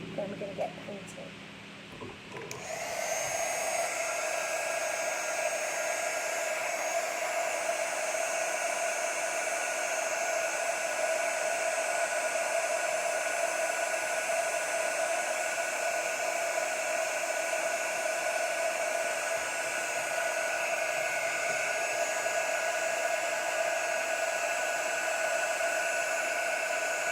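Heat tool heat-setting embossing granules, a steady, close blowing whir with a constant tonal hum that starts after a short moment of quiet and runs unbroken to the end.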